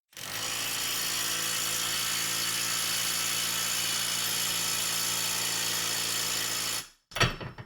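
A Milwaukee M12 Fuel stubby impact wrench runs a nut down on lubricated threads, giving one loud, steady, continuous hammering whine of nearly seven seconds that cuts off abruptly, followed by a brief clunk.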